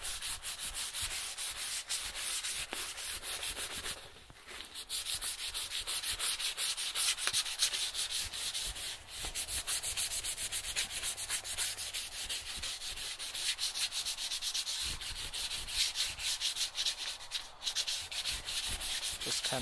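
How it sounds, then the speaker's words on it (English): Continuous rhythmic scratchy rubbing of sandpaper on the unvarnished wooden handle of a Husqvarna carpenter's axe, close up, with short light strokes and brief pauses, no voices. "we're just going to give the handle a nice light sanding"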